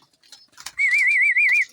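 Pigeon call: a loud, steady, slightly wavering coo follows a few faint chirps and rustles, close by and with no talk.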